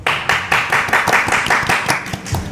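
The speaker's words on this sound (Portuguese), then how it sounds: "Por favor, uma salva de palmas para Pedro Mauro." Audience applause at a Brazilian comics talk show, a loud, dense burst of clapping from a small crowd, steady for a couple of seconds with rhythmic pulses.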